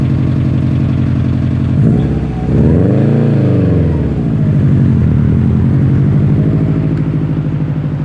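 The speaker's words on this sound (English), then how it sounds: "can clearly hear how loud this car was. It was just a straight pipe with a 5-inch exit." A Subaru WRX STI with a straight-pipe exhaust and a 5-inch exit drones loudly and steadily from close by, with one rev that swells up and falls back midway before it settles into a constant cruising roar.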